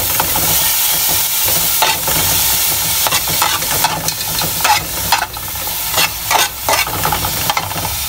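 Sliced mushrooms frying in a pan for kangkong with oyster sauce: a loud, continuous sizzle and hiss with repeated scraping stirs throughout.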